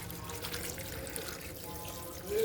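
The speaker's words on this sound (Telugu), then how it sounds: "ఇప్పుడు వాటర్ పోసేసుకోవాలి మనము" Water poured into a pressure cooker for a dal recipe, a soft steady splashing trickle that swells slightly louder toward the end, close by with no talking.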